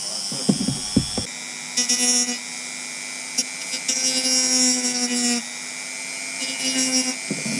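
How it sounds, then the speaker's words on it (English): A Dremel rotary tool whines at high pitch while cutting through a differential bush, in a few bursts of grinding that rise and dip in strength, after some brief knocks at the start. "Now I've got to cut that guy with the Dremel"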